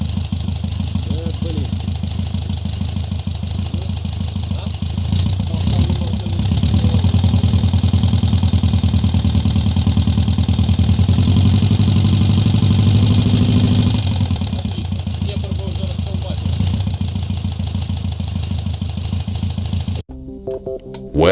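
An air-cooled V4 motorcycle engine idles nearby with a steady lumpy throb, revving up briefly midway before settling back, then cutting off near the end.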